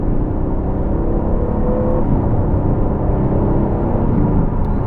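Steady low engine roar from a 503 hp rear-wheel-drive Aston Martin accelerating hard in Sport Plus mode on a winter road, a continuous loud drone with rising whine and no pauses.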